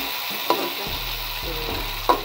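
Tomatoes sizzle while frying in a pan for a pulao, giving a steady broadband hiss with a couple of brief stirring clinks. The sound is close and continuous, with no talk over it.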